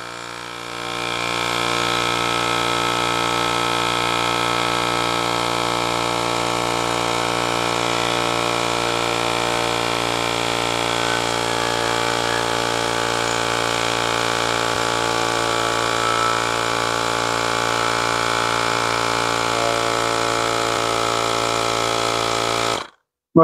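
A portable VEVOR cordless air compressor with a 7800mAh battery drones loudly and steadily while inflating a tire, holding an even mechanical hum for about twenty seconds before cutting off abruptly.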